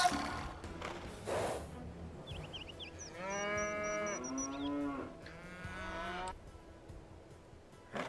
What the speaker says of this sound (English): Two more cows.